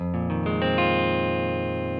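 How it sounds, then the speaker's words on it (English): Guitar strummed across all six strings on a barred chord, the notes rolling in one after another and ringing out together, loud and sustained. "take your right hand and just strum all 6 strings"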